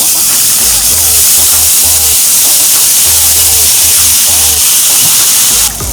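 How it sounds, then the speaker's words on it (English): Water squirted onto a hot Blackstone griddle beside smash burgers hisses and steams steadily to melt the cheese, a broad continuous sizzle with low rumbling underneath throughout. "That steam helps the cheese melt."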